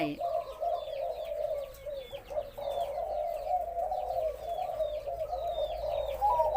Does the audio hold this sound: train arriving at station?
no